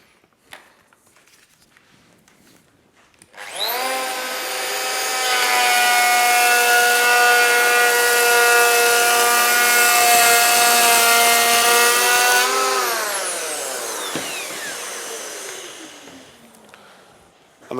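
Festool EHL 65 EQ electric planer taking a 2 mm pass along a wooden board: the motor spins up to a loud, steady harmonic whine for about nine seconds, then winds down, with no talking.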